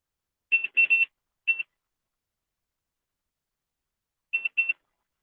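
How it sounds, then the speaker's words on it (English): A computer beeps in the background in short electronic chirps, a cluster of three, then one alone, and after a long silence two more, crisp and isolated. "Sorry for all the beeping in the background."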